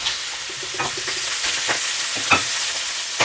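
Pork sizzling and popping in its own rendered fat in a hot pan for a Filipino boiled-pork dish, a steady loud fry with sharp crackles and pops breaking through, no talking.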